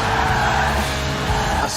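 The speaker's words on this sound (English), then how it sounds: "A serious slide there." A lightweight Lotus sports car with a high-revving 1.8-litre engine slides sideways in Forza Horizon 4, a loud sustained tyre squeal and skid over a droning engine note.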